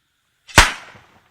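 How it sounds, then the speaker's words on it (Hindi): A single sharp, loud bang from a homemade firecracker rings out in a village, followed by a brief fading rumble and then silence. "ये है वो धमाका जिसके डर से भेड़िए यहां से भाग जाएं"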